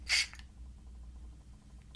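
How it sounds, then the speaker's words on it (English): A single short, sharp hiss of a glass perfume bottle spraying, close and loud, followed by quiet background and a faint second puff at the end. "I'm gonna spray it, and I'll probably regret it, but it sprays like this."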